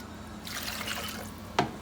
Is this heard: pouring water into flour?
yes